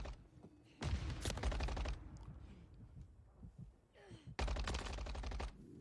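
Gunfire in a video game shootout: two loud bursts of rapid automatic fire separated by quieter game sounds, with faint talk.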